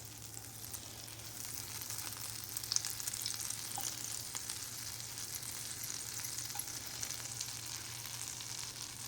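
A slice of bread toasting in melted butter in a hot pan, a faint, even, continuous sizzle with a low hum underneath, steady and quiet with only a tiny tick near the middle.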